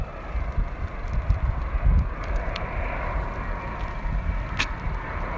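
Norwegian Boeing 787 landing at Copenhagen Airport, a steady broad jet roar with low rumbling surges and some wind buffeting, fairly loud and continuous with no talking.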